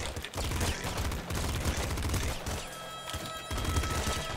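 Rapid bursts of pop gun fire in the video game Nuclear Throne, dense loud rattling volleys that stop briefly and then resume, with no talking over them.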